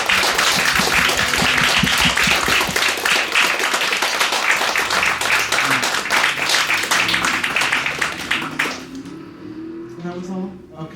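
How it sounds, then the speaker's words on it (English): A long, dense burst of audience applause thanking the guests at a podcasting conversation event, steady and loud for most of its length before thinning out and giving way to a voice. "That applause went on for a little bit."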